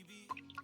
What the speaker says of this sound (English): I'm gonna strain out my lye water